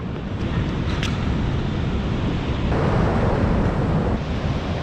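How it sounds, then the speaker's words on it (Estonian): Ocean surf in the Canary Islands rushes in a loud, continuous roar, blended with strong wind buffeting the microphone and swelling slightly in the middle. "Vaata millised lained."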